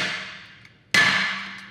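Hammer tapping a transfer punch in a metal fabrication shop: two sharp metallic taps, a softer one followed by a louder ringing strike that decays slowly, close and clear with no talking.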